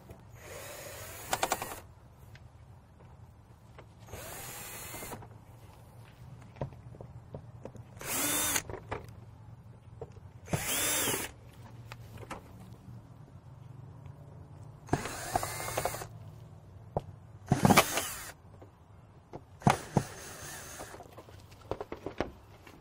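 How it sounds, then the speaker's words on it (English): A power drill drives screws through new shutters into the wall of a house, heard outdoors as repeated separate bursts of whirring, each a second or so long, with pauses and faint handling noise in between. "Now we're screwing in the screws that came with them right into the house."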